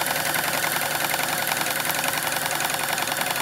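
An NC carpet serger stitches aircraft interior carpet with a steady, loud, continuous mechanical whir and rapid rhythmic chatter, running without pause and with no talking.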